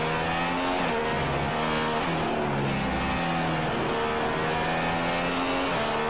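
A McLaren Formula 1 car's engine in the racing game F1 2016, during a career race in Spain, with a loud, steady high-pitched whine whose pitch rises and falls through gear changes, no talk over it.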